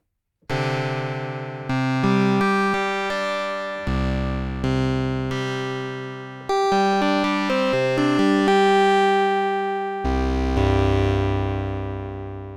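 Bright synthesizer chords from an Arturia OB-Xa V ring out one after another, each swelling and trailing off into a long, spacious reverb tail.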